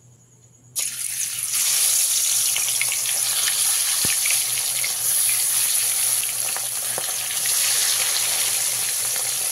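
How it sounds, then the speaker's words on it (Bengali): Pieces of katla fish sizzle in medium-hot oil, the frying jumping from quiet to a loud, steady crackle that holds close and constant with no talking. "একে একে মাছগুলো দিয়ে ভেজে নেব।"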